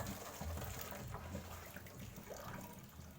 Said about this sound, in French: Donc, je veux renverser l'eau.